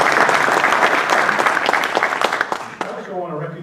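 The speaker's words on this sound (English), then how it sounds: "how about a round of applause for everybody?" Sustained crowd applause at a 2019 Veterans Day ceremony in Belleville, Illinois: dense, steady clapping from many hands that thins and fades near the end.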